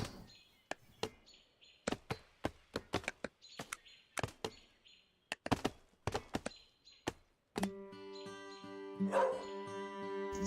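In the 0 A.D. strategy game, a dog unit gives short yips and barks among sharp clicks and taps, followed by a sustained tonal game sound near the end.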